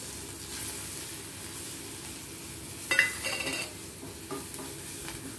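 Spices frying in hot oil in a pan for a bottle gourd curry, a soft steady sizzle with stirring scrapes and a sharper clatter of utensil against pan midway, no talking.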